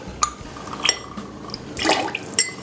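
Lemon and grapefruit juice pour for a cocktail, splashing and trickling liquid with a few clinks of glassware, close and fairly quiet, in short uneven bursts.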